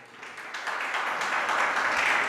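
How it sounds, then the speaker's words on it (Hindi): An audience at a Jain religious discourse applauds together, a dense, steady patter of many hands clapping at moderate distance that builds slightly and holds without pause. "ताली बजाना बंद करो"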